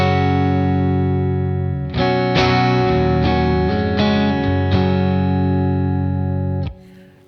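An electric guitar plays its dry reference tone with no Harmonious Monk tremolo pedal engaged: one sustained chord rings, then several restruck chords layer and ring out loudly for about five seconds before cutting off.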